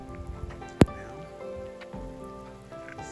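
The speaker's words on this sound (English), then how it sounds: "And it's raining." Steady rain patters on a mountain road, a soft continuous hiss with one sharp knock early on, heard close and fairly quiet.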